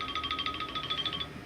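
An NEC SV9100 business desk telephone rings with a steady electronic warble, a rapid pulsing trill held for about a second and a quarter, then stopping. It is moderately loud and close, with no talk over it.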